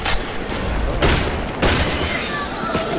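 Zombie shooter game combat, heard as a grenade explosion and bursts of gunfire as two loud booming blasts over constant crackling shots, with people talking over the top.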